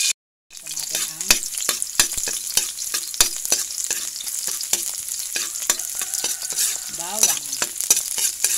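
Garlic sautés in hot cooking oil in a pan, a steady crackling sizzle broken by frequent sharp clinks and scrapes of a spatula stirring, starting abruptly after a brief silence.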